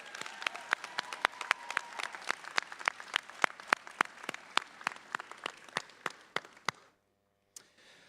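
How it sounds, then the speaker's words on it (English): A graduation ceremony audience claps in crisp, distinct, fairly regular beats that sound like a modest crowd; the applause stops abruptly near the end, followed by silence and one last stray clap. "Let's give them a round of applause."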